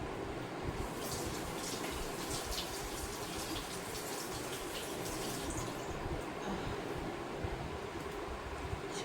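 Tap water runs steadily while a papaya is washed under it, a soft continuous hiss and splash with faint dripping accents and no voices.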